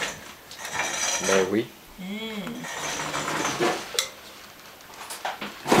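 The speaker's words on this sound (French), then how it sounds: "Je vais aller chercher une cuillère" Cutlery clinks and rattles as a spoon is fetched from a kitchen drawer, with bright metallic chinks coming in short bursts and people talking around them.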